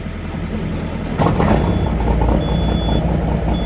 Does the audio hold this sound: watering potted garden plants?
no